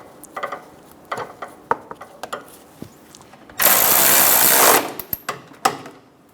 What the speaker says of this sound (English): Go around and install all of the bolts.